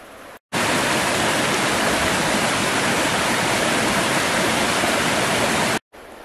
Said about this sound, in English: Nina River down below us